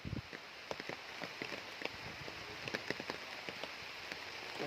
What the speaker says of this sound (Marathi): पाऊस जास्त आहे त्याच्यामुळे